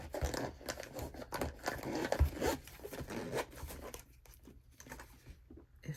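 Camera accessories, including two backup batteries and an Osmo Pocket 3 camera, are packed into a case, giving close, steady crinkling, zipper-like rustles and soft handling patter that thin out toward the end.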